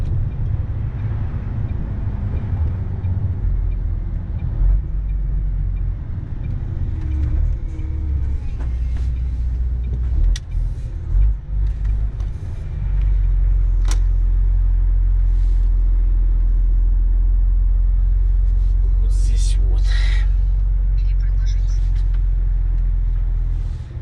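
A car slowing as it turns off the road and pulls over near a parking area and fuel station, steady low road rumble and engine drone giving way to a smoother idle, with wind buffeting and brief clicks and knocks, no speech.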